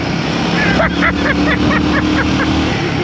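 Royal Enfield Guerrilla 450 motorcycle riding on a road, a steady loud engine drone with wind rush throughout, while a rider's voice talks over it.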